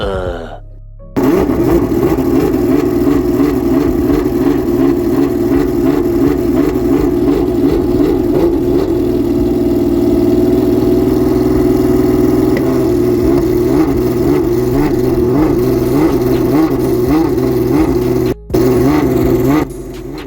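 A Ferrari supercar engine revving loudly on the main stage at the London Concours, an outdoor car show at the Honourable Artillery Company grounds, with a sustained rumbling drone and rhythmic pulsing revs close by that run almost without a break.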